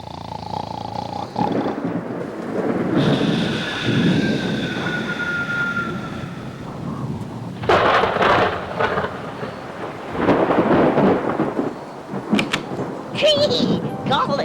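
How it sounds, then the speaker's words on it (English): Thunder rumbles and crashes through a rainstorm, with steady rain and rolling booms building and fading across the whole stretch, loud and close at times. "Did you hear that thunder?"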